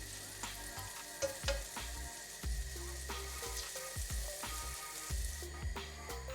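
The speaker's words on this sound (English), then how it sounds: "The pan is now hot, and I'm going to spread some butter on the pan." Butter sizzling in a hot pan before toasting mini burger buns, a steady close frying crackle with small popping bursts throughout.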